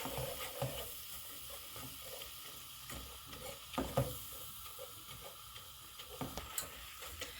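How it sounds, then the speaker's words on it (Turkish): A cup of flour is stirred and toasted in a pan, giving a faint, soft sizzle with irregular scraping strokes of a utensil against the pan, quiet and close with no voices. "Yaklaşık 5-6 dakika güzelce kavuracağız"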